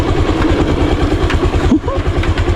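Motorcycle engine idling on a rural road in Ilam, Nepal, a steady close low throb with regular pulsing that runs unbroken through the whole stretch.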